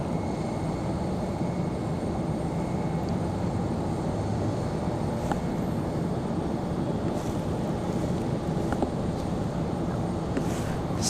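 A Southwest airliner departing Raleigh-Durham builds a dense, continuous engine roar that stays loud and broadband throughout, with no speech.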